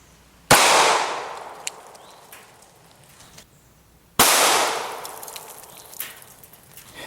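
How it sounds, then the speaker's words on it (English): Two sharp, loud 9mm gunshots, jacketed hollow point rounds fired into Bobster ballistic lenses, each followed by a decaying outdoor echo, a few seconds apart. "Now we're going to shoot the Bobster ballistic lenses with a 9mm."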